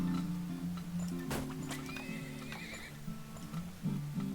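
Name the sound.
horse neighing in Turmoil video game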